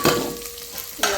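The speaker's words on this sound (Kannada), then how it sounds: "ಇದಕ್ಕೆ ಸ್ವಲ್ಪ ಜೀರಿಗೆ ಸಾಸಿವೆ ಹಾಕೊಂಡೀನಿ. ಚಟಪಟ ಅಲ್ಲುತ್ತ ನೋಡ್ರಿ" Cumin and mustard seeds splutter in hot oil in a pan, a brief burst of close crackling sizzle with a second pop of sound near the end.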